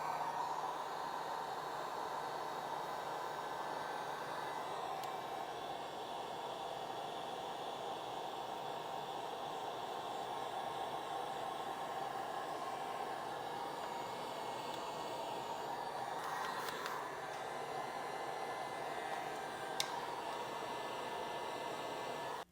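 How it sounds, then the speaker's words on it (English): A heat gun on its low setting blows steadily while shrinking heat shrink tubing over bullet connectors on a Losi 8ight-XE RC car's ESC, giving a constant, even airy whir with no talk. "I'm gonna use a heat gun."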